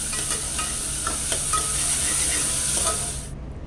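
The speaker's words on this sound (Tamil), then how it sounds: "வெங்காயம் நல்லா வதங்கட்டும்" Chopped onions fry in hot oil with fennel, cinnamon and cloves for a chicken kuzhumbu, giving a dense, steady sizzle with faint stirring scrapes, close and loud, cutting off abruptly at the end.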